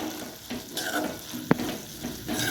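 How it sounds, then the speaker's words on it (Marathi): Ground peanut powder stirred into a frying vegetable curry, a steady sizzle with spoon scrapes and one sharp clink of the spoon against the pan near the middle. "आपण आता त्याच्यामध्ये 2 चमच शेंगदाण्याचा बारीक वाटलेला कूट टाकायचा आहे आणि मिक्स करून घ्यायचं आहे."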